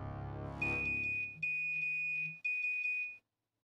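A phone message notification tone rings out in a home: a repeated electronic ringtone-like melody with a steady high pitch, sounding in three close bursts, clear and alone without speech.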